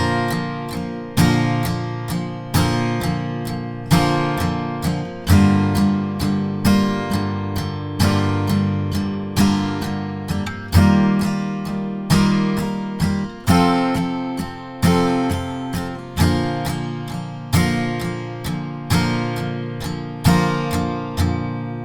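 Fingerpicked acoustic guitar playing the intro and first verse part of a song, a steady flowing pattern of plucked chords ringing close and clear with no voice over it.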